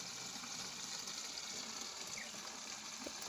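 Country liquor poured at a rural still in Kandhamal, Odisha, a steady close gushing trickle of liquid running continuously without pause.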